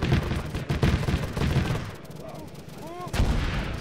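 Turret gunfire in a Star Wars–themed Arma 3 battle: dense, rumbling bursts of weapon fire that ease off briefly in the middle, where a few whistling tones rise, then slam back in loudly near the end.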